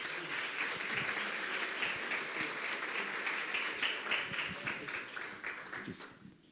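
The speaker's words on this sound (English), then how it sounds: "A big round of applause." A conference audience at a session on biodiversity and ecosystem services in lakes and wetlands applauds after a presentation. The clapping is sustained and moderately loud, fills the whole stretch and thins out near the end.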